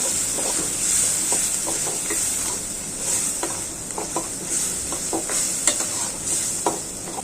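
Spice paste of turmeric, chili, salt, ginger-garlic and onion paste sizzles steadily in a pan while a spoon scrapes and stirs it in irregular strokes, with a constant close frying hiss.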